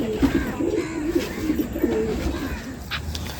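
Small-sized Madrasi (Malwai Madrasi) pigeons coo in a close, repeated series of soft throaty calls, running steadily through with a faint rustle and no voices.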